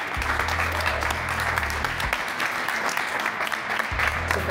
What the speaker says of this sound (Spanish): Presentar al señor Rubén Omar Romano, al cual pido un aplauso por favor a todos ustedes.